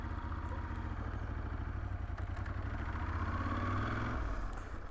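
Motorcycle ridden through Plockton village in Skye and Lochalsh, Scotland, its engine a steady close rumble with some rattle, a slight rise in pitch toward the end as it accelerates.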